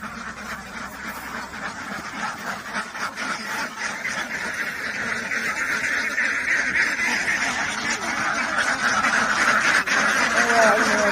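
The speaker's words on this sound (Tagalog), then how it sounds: "Mga duckies." A flock of ducks quacks and honks continuously at a duck farm near the pens, many overlapping calls forming a busy chorus that grows louder over time.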